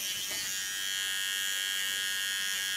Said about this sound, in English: that part you do with a small clipper